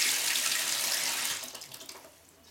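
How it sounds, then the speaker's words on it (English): A tap runs water into a container to wash winnowed grain and remove husks, a loud, steady, close rush that tapers off and stops near the end, with no talk. "Fill it up with water."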